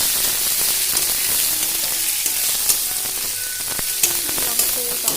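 Ginger, garlic, cinnamon and onion sizzle steadily in a hot pan of oil for an Assamese potato and pointed gourd dish, a dense continuous crackle with occasional sharper pops and faint stirring.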